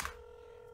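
A phone dials inside a video game, giving a steady electronic tone after a brief louder click, faint and alone with no talk.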